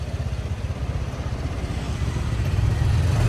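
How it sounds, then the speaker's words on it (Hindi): Motorbike taxi engine in Pattaya, Thailand, a close, steady low throbbing putter with rapid regular pulses, slightly building toward the end, with wind-like road noise on top and no talking. "ये मोटर बाइक टैक्सी मुझे 100 बात में मिली है"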